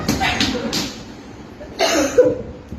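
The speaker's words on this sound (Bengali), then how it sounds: "কাশতে শুরু করেছে" Someone coughs in a few short bursts, choked by the sharp fumes of spicy khichuri being eaten, the coughs rising from a murmur of nearby sound.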